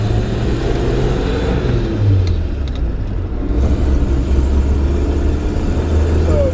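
A 1954 Chevrolet 3100 shortbed pickup with an original granny-gear four-speed drives along, its engine humming low and steady with the pitch climbing and shifting as it moves, loud and close.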